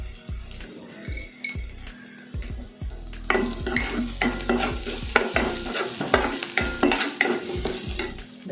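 Ginger, garlic, cumin and asafoetida sauté in ghee in a metal pan, with rhythmic spoon scrapes and clinks over an oil sizzle that grows louder partway through.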